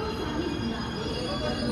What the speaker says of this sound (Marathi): हे बाजूला जो हावडा गाडी चालली आहे प्लॅटफॉर्म नंबर 2 मध्य रेल्वेचं आहे